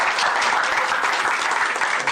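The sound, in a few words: applause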